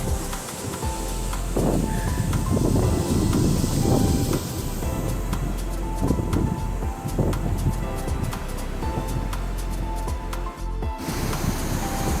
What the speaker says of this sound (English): Trying to take a picture, but the wind is winding.